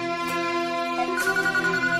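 A phone ringtone rings on and on unanswered, a steady electronic melody playing close and clear with no one speaking.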